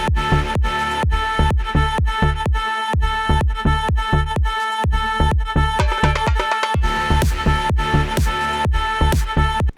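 An electronic music drop built from sampled Dune sounds, with heavy pulsing bass hits and brass stabs in a fast, driving, evenly repeating rhythm, loud and dense throughout with brief gaps in the low end.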